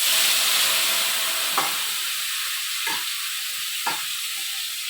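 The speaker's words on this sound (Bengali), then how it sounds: "এখন মেখে একটু ভেজে নেব মাংসটাকে।" Marinated meat fries in a pan with a loud, steady sizzle and hiss, broken by a few distinct scraping stirs; no one speaks.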